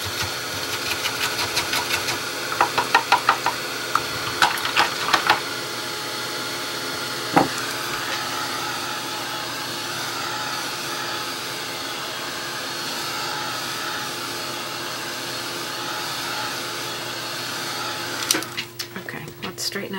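A hair dryer blows steadily on a freshly painted acrylic strawberry, a continuous mid-loud whir running nearly the whole time, with a few clicks and knocks early on before it cuts off near the end.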